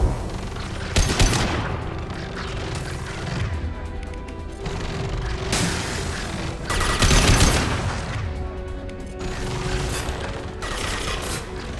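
Gunfire and explosive impacts in the Mass Effect 2 video game, loud layered blasts and crashes with several heavy bursts spread over about twelve seconds amid a constant rumbling background.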